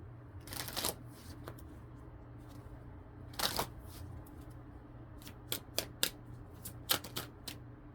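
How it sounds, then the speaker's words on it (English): Quiet riffling and snapping of tarot cards being shuffled, a few soft bursts followed by quick crisp flicks near the end, close by. "this just flipped over while I was shuffling. I about dropped the cards."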